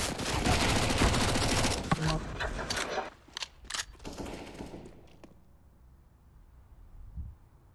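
Shooter video game gunfire: a dense, loud burst of rapid automatic fire for a few seconds, then scattered sharp single shots before fading to near quiet with one last faint pop.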